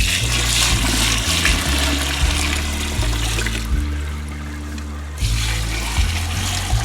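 Water poured out of a bucket into drinkers for chickens gives a loud, steady gushing and splashing that briefly eases off before picking up again, with no talking.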